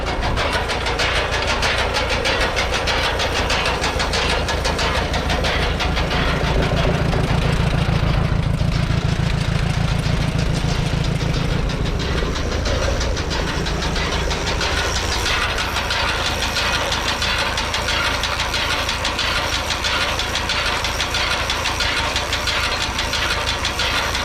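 An old Allis Chalmers WD tractor engine running outdoors, a loud, steady, rough mechanical chug with a knocking rhythm that holds for the whole stretch, close by and without talk.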